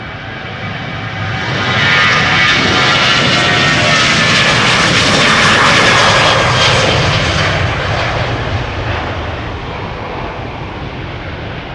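Transavia airliner PH-HSB, a 14-year-old jet on flight 5135 to Barcelona, departs Amsterdam Schiphol with a loud, sustained engine roar that swells over the first two seconds and holds steady before easing slightly as it climbs away.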